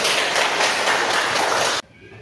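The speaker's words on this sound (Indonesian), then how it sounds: "Tepuk tangan buat kita semua." A classroom of students claps together in a dense, steady burst of applause lasting nearly two seconds, then stops abruptly, leaving only a faint room hush.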